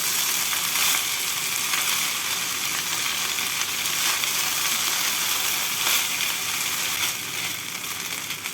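Cooked rice for beresta rice is stirred and tossed in a hot pan, giving a steady, close, dense sizzle with soft scraping and no talking.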